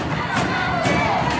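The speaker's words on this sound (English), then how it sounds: "The crowd taking him on." Arena crowd at a heavyweight championship wrestling match, a loud sustained roar of cheering and shouting with sharp swells, filling the space without a break.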